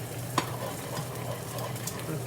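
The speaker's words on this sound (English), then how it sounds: "So I'm just heating up the sauce back here." Steady sizzling and bubbling of sauce in a pan, with a soft clink of a utensil near the start; no talking.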